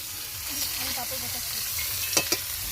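Fish and papad frying in hot oil at a picnic cookout, a steady close sizzle with a few sharper crackles near the end and no talk over it.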